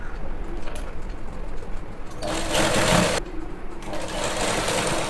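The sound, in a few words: sewing machine stitching a pant seam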